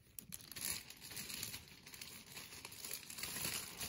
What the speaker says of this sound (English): And there goes those crinklies again, sticking to my fingers.